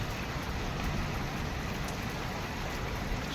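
Steady heavy unseasonal rain during a thunderstorm in Upleta, a dense continuous hiss of downpour with no break and no voices.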